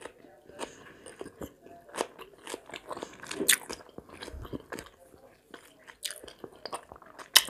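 Close-up mukbang eating of cutlets and salad, with crisp bites and crunchy, wet chewing in irregular bursts, fairly quiet with a few louder crunches.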